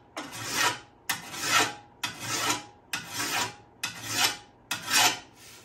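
A hand file sharpening the metal blades of garden pruners and a shovel: six rhythmic rasping strokes about a second apart, each starting sharply and swelling into a gritty scrape, close and steady with no talking.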